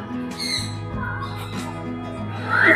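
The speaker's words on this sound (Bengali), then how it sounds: "কাকাতুয়ার ডাকটা শুনতে পাচ্ছেন নিশ্চয়ই আপনারা" An Australian cockatoo in an aviary at the Kathgola garden in Murshidabad gives harsh, nasal squawks, several close calls in a row over a steady background hum.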